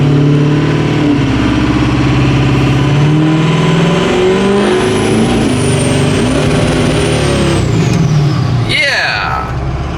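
A Ford 6.0 Powerstroke diesel truck engine runs loud and close, its tone rising and falling with revs and a whistling climb partway through, while a voice talks over it.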